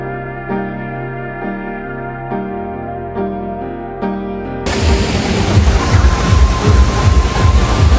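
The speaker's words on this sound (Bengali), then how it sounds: "ভিতরে কিন্তু ট্রেন যাচ্ছে, মনে হয় ভিতরে ট্রেন কিন্তু তৈরি করা হয়েছে" Rumbling, clattering toy train noise with rhythmic wheel beats begins partway through, loud and close, after an earlier stretch of repeating tonal music, in Green Valley Park, Natore.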